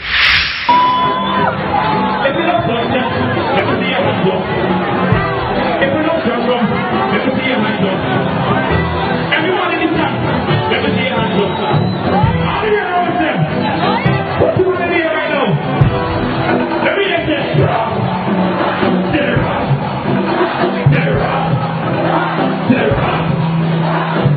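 Large live crowd at a local music event singing and chanting along to a song, a loud, dense wall of voices and cheering that holds steady throughout.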